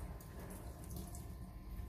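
Tap water runs steadily onto a Rinat Aries Pro goalkeeper glove during a grip test, a constant close splashing hiss with no talk over it.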